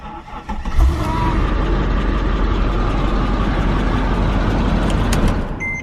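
A supercharged Mercedes-AMG engine, from a car totaled by insurance, cranks and fires up close, then settles into a loud, steady, rumbling idle that holds evenly until the end.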